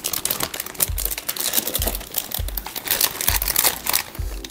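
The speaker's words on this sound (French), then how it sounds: "Désolé pour les bruits de plastique" Plastic packaging crinkles and crackles as a graphics card is unwrapped, with dense bursts of rustling and a few soft low thumps of handling, close and continuous.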